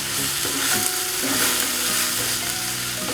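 Spices with garam masala sauté in a pan for a spicy chicken roast, a loud, dense, continuous sizzle close by with faint stirring beneath and no talking.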